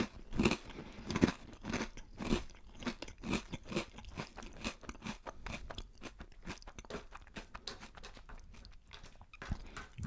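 Crunchy cinnamon breakfast cereal is chewed close to the mic in a dense run of crisp, crackling bites and crunches. The crunching continues steadily for about ten seconds, with no talking.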